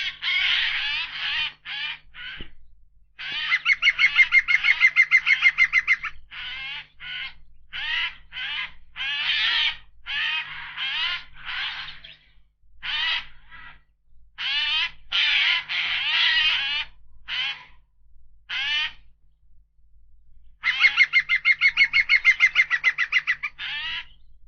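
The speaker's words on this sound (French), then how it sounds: "la forêt s'épaissit, et ce sont les geais et le pivert qui mènent grand tapage." Jays and a woodpecker calling in a dense European forest, loud harsh raspy bird cries repeating in quick bursts with short pauses, close and continuous over the whole stretch, with no voices.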